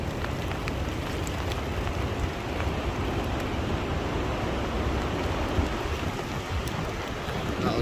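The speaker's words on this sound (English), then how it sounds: "when that wind is picking up" Wind and rain batter a tent in the woods, a loud steady broadband roar of gusts and buffeting close around the fabric, with no talking.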